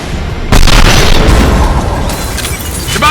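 An explosive detonates in the video game Mass Effect 2, a sudden loud boom that breaks in after a half-second lull and rolls on as a heavy, rumbling blast trailing off over the next few seconds.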